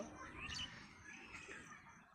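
Faint, scattered bird calls, a few thin chirps and squawks, distant against quiet outdoor background noise at a ginger-growing plot under darkening clouds.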